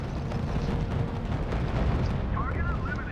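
Gunfire and explosions from battle in the strategy video game RUSE, with dense rumbling blasts and booms running the whole time behind spoken radio-style voice lines.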